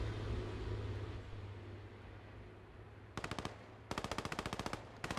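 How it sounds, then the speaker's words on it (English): A Panzer 38 tank fires in the game Post Scriptum, sounding as two bursts of rapid, evenly spaced shots over a low rumbling battlefield background. The first burst is short and the second longer, both loud and close. "I can hear the Panzer 38 is opening fire"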